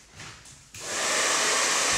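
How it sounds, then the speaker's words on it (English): A hairdryer switches on to dry a painting, jumping from soft room sound to a loud, steady rushing blow that continues to the end. "I've got to get the hairdryer out, so bear with me while I make a bit of a noise."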